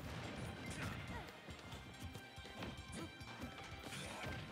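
A mortar strikes in Super Smash Bros., landing as a loud crashing smash within a dense mix of game effects and music, while commentators talk over the action.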